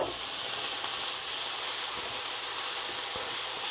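Diced red onions and mushrooms frying in bacon fat in a pan, a steady close hiss and crackle of sizzling throughout with faint occasional stir clicks, no talk.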